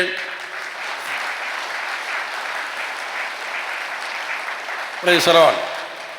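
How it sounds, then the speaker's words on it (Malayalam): A church congregation at a Catholic sermon breaks into clapping, a dense sustained patter of many hands at middle distance that swells and holds for several seconds before a brief louder burst near the end. "ഒന്ന് കൈയുറച്ച് കൈയടിച്ചേ"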